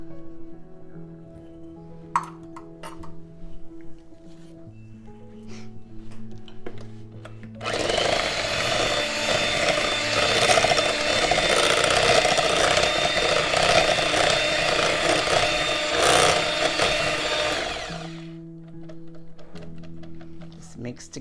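An electric hand mixer whirs loudly for about ten seconds, beating chess pie filling with salt and vanilla in a bowl, with quieter kitchen clatter before and after.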